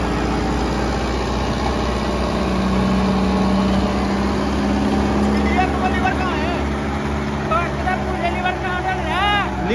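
A Kubota 5502 tractor engine runs with a rotavator in second gear, a loud, steady, close diesel drone that holds an even pitch throughout, with voices talking over it.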